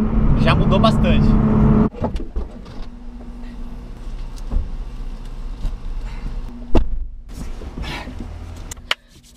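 A car with a newly installed exhaust rumbles loudly nearby, its engine note strongest at the start before settling to a lower idle-like drone, with someone talking over it throughout and a few sharp knocks.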